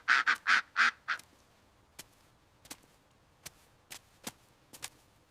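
A duck quacks in a loud, close burst of four or five quick calls, then sparser single quacks and short clicks follow at intervals, with no talk over them.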